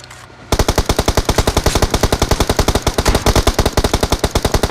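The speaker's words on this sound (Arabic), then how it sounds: "طلع 3 طلقات على اليسار على الجبل" Rapid automatic gunfire from the video game PUBG, loud and close, a dense unbroken burst of evenly spaced shots that starts abruptly after a short quiet moment and runs to the end.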